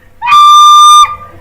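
A single sustained penny whistle note of D, sounded clean and loud for just under a second with a brief breathy onset and a quick cutoff, played alone.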